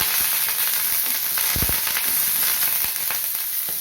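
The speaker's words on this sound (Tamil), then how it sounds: "இப்போ கருவேப்பிலை சேர்த்துக்கலாம்." Curry leaves crackle and sizzle in hot oil for a Tamil groundnut sundal, a steady close frying hiss with a few sharp pops near the middle.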